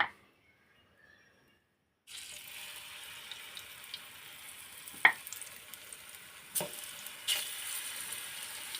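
Pieces of ripe banana frying in hot oil give a steady, faint sizzle that starts after a quiet opening, with occasional sharper pops and clinks from handling in the pan.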